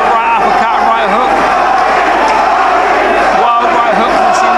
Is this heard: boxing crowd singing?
yes